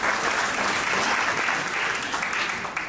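An audience at an International Domestic Workers Day gathering claps in a dense, continuous burst of applause, steady and loud for the whole stretch.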